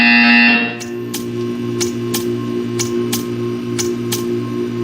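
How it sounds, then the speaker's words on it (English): In a video game, a loud, harsh buzzer blares for under a second, then regular ticking clicks follow over a low steady hum. "You will hear a buzzer."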